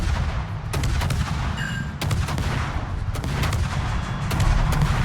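Naval gunfire from a Swedish destroyer battle in an online warship game: repeated sharp cannon reports at irregular intervals, with a few tight double shots, over a steady low rumble of engine and sea noise.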